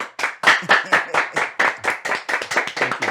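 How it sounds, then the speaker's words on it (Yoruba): A group of people clap in unison for a man entering a room in a Yoruba film scene: close, loud, steady hand claps repeating in a quick even rhythm, with no voices over them. "When he enters, you clap."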